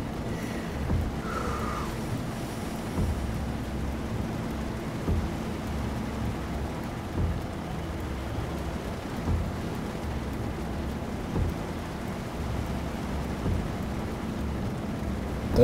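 Steady rain and distant rolling thunder in the Euro Truck Simulator 2 driving game, a continuous low rumble with soft rain hiss running throughout at moderate level, no talking.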